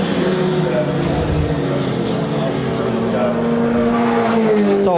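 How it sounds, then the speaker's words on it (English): Formula Ford 1600 engines roar with a sustained high tire squeal from brakes locking up during a historic car race, while a commentator talks over the racing noise. "You can hear Pollock locking up there every time."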